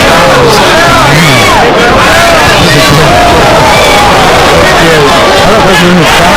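A boxing crowd roars and whoops at a hard hit during a heavyweight bout between David Tua and Garing Lane, a dense continuous wall of cheering and babble with scattered shouts throughout.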